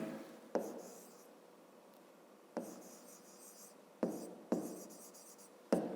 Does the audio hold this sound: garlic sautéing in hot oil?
no